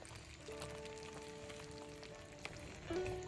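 Garlic and ginger paste frying with chicken in a pan gives a soft, steady sizzle that stays quiet throughout, with a faint tonal hum running underneath.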